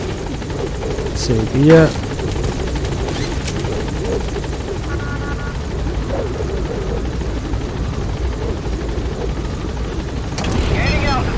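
The Pequod helicopter hovers at a landing zone in Metal Gear Solid V, its steady rotor drone filling the scene while a voice speaks briefly over it and short game sounds punctuate the noise.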